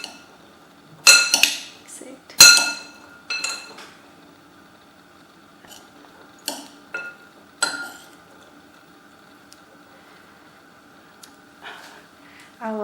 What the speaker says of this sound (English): with the help of spoons I am going to just mix it